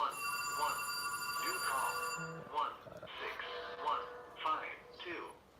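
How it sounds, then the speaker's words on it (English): A telephone bell rings in a steady repeating pattern indoors for about two seconds, then stops as a voice starts talking over faint radio-like background sound. "I'm interrupted by a phone"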